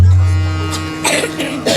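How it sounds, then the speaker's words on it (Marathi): A man coughs during a comedy kirtan performance: two rough, breathy bursts rise close by over a steady low electrical hum, with no speech around them. "मी खोकलो म्हणून नका खोकलो"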